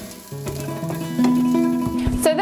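Chili sizzles in a frying pan alongside cooked onions for vegan nachos, a steady close sizzle with stirring scrapes and clinks that rise toward the end.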